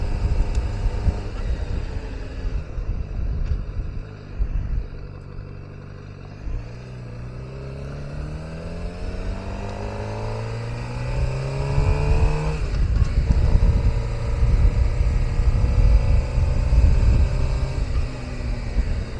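A Suzuki GSX-R motorcycle on a road ride, engine rising and falling through the gears with sweeping pitch changes as it revs and passes, loud and close with steady wind noise.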